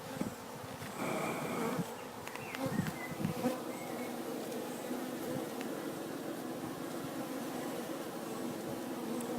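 Dense, steady buzzing of many honeybees swarming around an open, packed hive during an inspection, a continuous low drone with occasional louder passes near the microphone.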